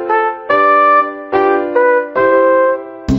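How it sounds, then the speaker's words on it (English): Bright trumpet from a Mickey Mouse Clubhouse Disney Junior game sounds a short four-note fanfare, each note sustained and brassy, loud and clean with nothing else present. "A trumpet sounds like this."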